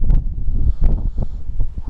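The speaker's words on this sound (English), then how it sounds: "I might have to move in a bit because the wind's a little bit cold" Cold night wind blowing across an exposed hilltop at Twmbarlwm, rushing and buffeting the microphone in uneven gusts with a low rumble, loud and close, with no voices.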